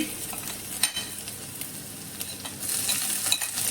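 Garlic and ginger frying in hot oil give a steady, moderately loud sizzle with occasional crackles and a few spoon scrapes, without any talking.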